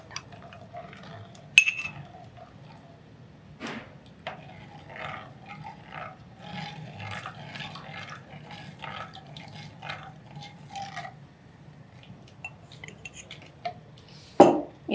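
A belly-fat drink is stirred in a clay pot, giving soft scraping and occasional sharp clinks and knocks of utensil against pot, quiet and close, with a few louder taps.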